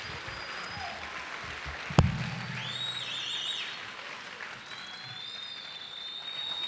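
A graduation ceremony audience applauds the 2012 graduates of John Leslie Patton Academy Center, a steady crowd clapping with one sharp loud thud near the middle and faint whistles and cheers on top.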